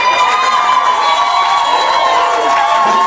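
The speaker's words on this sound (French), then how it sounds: "applaudir Franklin et Mimi aujourd'hui" Wedding guests in a church cheer and applaud a religious marriage ceremony, a loud sustained crowd roar with whoops and high shouting voices.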